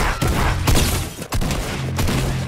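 Gunfire in the Free Fire battle royale game comes as a rapid, loud string of sharp shots, several close together with brief gaps between bursts.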